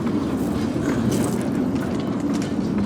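Light railway wagons roll along track on a small heritage line, giving a steady, continuous rumble with faint clicking, close and unbroken, with no talk.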